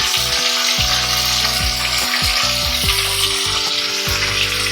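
Tomato with a pinch of salt sizzles loudly and constantly in a pan, with a repeating low rhythmic thumping beneath the frying and no talk.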